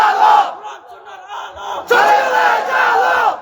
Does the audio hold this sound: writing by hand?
no